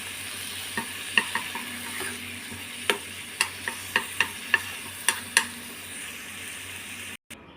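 A utensil taps and scrapes against a pan as bok choy and tofu are stirred with soy sauce, giving a string of sharp, close clicks over a low, steady sizzle.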